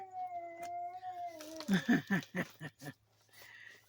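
A dog howls in a long, steady, wavering tone that slides slightly downward, then breaks into several short yelping howls before fading, heard indoors at moderate distance with no talking.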